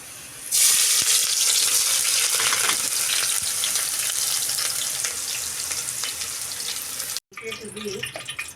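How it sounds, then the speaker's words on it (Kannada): Loud, steady sizzle of onions hitting hot oil, starting abruptly and crackling continuously, with a brief break near the end before quieter sizzling resumes. "ಈ ಕಡೆ ನಾನೀಗ ಎಣ್ಣೆ ಅಂತ ಕಾದೈತ್ರಿ ಉಳ್ಳಾಗಡ್ಡಿನ ಹಾಕೊಂತೀನಿ ರೀ"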